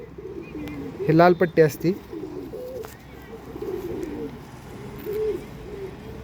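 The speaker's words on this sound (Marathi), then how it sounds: "एकदम सुपर क्वालिटीचे कबूतर आहेत हे." Red-striped Andhra-line pigeons coo in several soft, low bursts close by, strongest early on and fading to quieter murmurs, while someone talks in the background.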